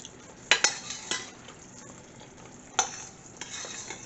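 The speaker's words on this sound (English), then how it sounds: "This has been boiling here for about 10 minutes." Sugar syrup with star anise and butter boiling in a pot for hot cross buns, stirred with a spoon that scrapes and clinks against the pan in a few sharp strokes over a soft, steady bubbling sizzle.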